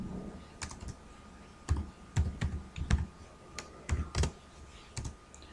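Keys on a computer keyboard tapped while writing Python code, in short irregular bursts of sharp clicks, quiet and close, with pauses between runs and no talking.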